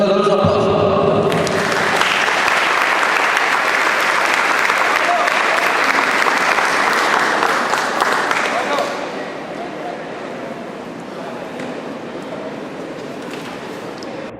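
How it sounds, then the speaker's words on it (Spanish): A lecture audience gives a loud, sustained round of applause to welcome a speaker at a reinforced concrete design seminar. The clapping is dense and steady, then drops to a lower level and carries on near the end. "le brindamos un caluroso aplauso"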